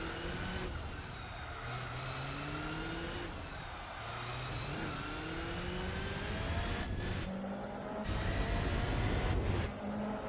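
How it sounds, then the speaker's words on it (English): A race car engine in the Gran Turismo 4 video game drones steadily at high revs, its pitch climbing through each gear and dropping sharply at every shift, repeated several times in a continuous loud stream. "Even the engine sound makes me really nervous"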